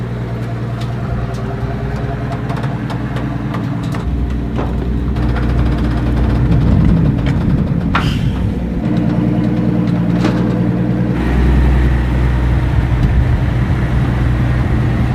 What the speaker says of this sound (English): This is a V12 bit turbo Maybach engine.